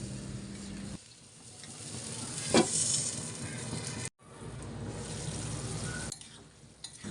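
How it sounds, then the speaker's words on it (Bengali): Beef simmers and sizzles in a pan after a little water is added, a close, continuous hiss with a brief sharp sputter and a short break midway, and no voices. "সামান্য একটু পানি এখানে অ্যাড করে দিব কারণ গরুর মাংস সেদ্ধ হতে কিন্তু একটু বেশি সময় লাগে"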